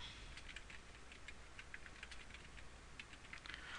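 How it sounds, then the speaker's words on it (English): Quiet, quick keystrokes tap on a computer keyboard during data entry, arriving in short irregular bursts over a faint steady background hum; nobody talks. "I could type in that number and hit OK."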